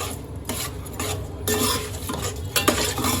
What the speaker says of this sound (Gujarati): અને પછી ચમચેથી હલાવી નાખવાનું